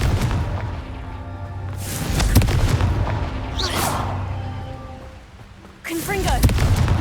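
Confringo explosive spell cast in Hogwarts Legacy, heavy booming blasts that land in separate bursts with crackling debris between them, loud and close, set against a steady rumbling background.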